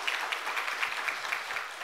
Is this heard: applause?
yes